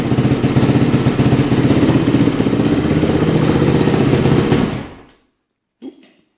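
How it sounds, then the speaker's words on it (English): A 400cc dirt bike engine idles with a rapid, steady putter, then cuts off abruptly, followed by silence and a single faint knock. "Look how quiet that engine is."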